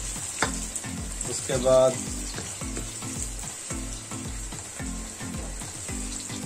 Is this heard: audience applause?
no